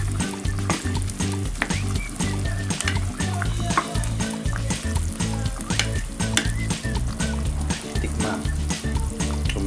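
Steady loud sizzling from a pot of chicken caldereta stew on the heat, with scraping and clinking of a spoon stirring through it, continuous throughout.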